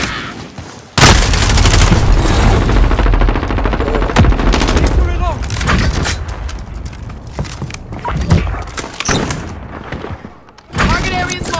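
Heavy automatic gunfire and booming explosions rattle in a multiplayer shooter video game, loud and nearly continuous for the whole stretch while radio-style voices call out over the fight.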